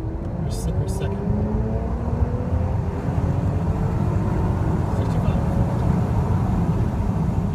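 A BMW 760Li accelerates hard in second gear from inside the cabin, its engine a steady loud roar with rising harmonic tones that climbs throughout, with voices faintly present.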